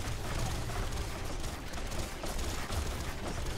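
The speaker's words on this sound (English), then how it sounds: "That's a lot of gunfire." Dense, continuous gunfire in the video game Biomutant rattles without pause, many rapid shots blending into a loud, chaotic barrage.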